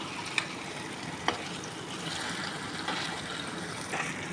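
Banana slices fry in oil over a medium flame, giving a steady close sizzle with a few soft clicks from stirring and no voices.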